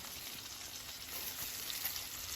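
Oscar Mayer original bacon fries in a pan with a soft, even sizzle and crackle. It stays quiet and constant throughout, with no talking.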